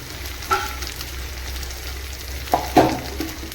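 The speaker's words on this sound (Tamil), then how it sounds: "வெங்காயம் ப்ரௌன் கலராக நல்லா வதங்கட்டும்." Onions fry in a pan with chili powder, salt, curry masala and turmeric, a low steady sizzle broken by a few sharp scraping clinks of stirring.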